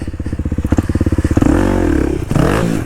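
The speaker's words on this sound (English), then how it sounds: "Hold up, let's see if we can jump this log." Dual sport motorcycle on a dirt trail, engine pulsing in a steady rapid beat before revving hard and surging as it jumps a log, then a second throttle burst near the end.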